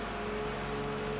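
A race car engine in the Gran Turismo 6 racing game holds a steady mid-pitched drone as it pushes toward top speed, constant and fairly loud throughout with no talk.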